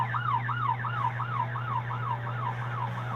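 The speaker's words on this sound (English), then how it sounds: "an unmarked Dodge Charger went chasing after the box truck with sirens screaming" Wailing police siren from an unmarked Dodge Charger chasing a box truck, a steady repeating up-and-down yelp cycling about every half second, loud and continuous with a low engine hum beneath, no talk.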